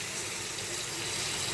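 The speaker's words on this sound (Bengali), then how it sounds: "এখন আমি একটু পানি দিয়ে দিব" Water pours steadily into a cooking pan of raw jackfruit pieces, a continuous close rushing splash with no break and no voices.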